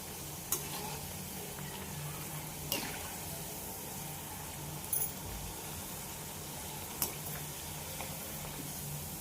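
Onion bhaji (kanda bhaji) frying in hot oil over a medium gas flame, giving a soft, steady sizzling hiss with a few faint pops spaced through it.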